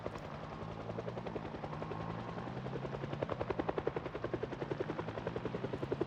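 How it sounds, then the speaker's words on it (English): A helicopter in the video game Project Zomboid flies overhead, its rotor thumping in a rapid, steady pulse that grows louder and more distinct as it approaches. "More concerned about the helicopter."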